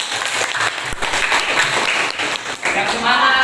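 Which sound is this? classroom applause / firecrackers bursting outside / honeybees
classroom applause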